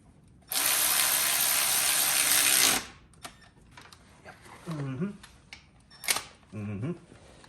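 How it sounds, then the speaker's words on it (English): A ratchet tightens the alternator bolts on a Mercedes W123 300TD with an OM606 engine swap, a loud, steady buzzing whir lasting about two seconds, then scattered clicks and knocks, with brief speech between them. "I forgot to tighten the alternator belt, or bolts, so I have to do that."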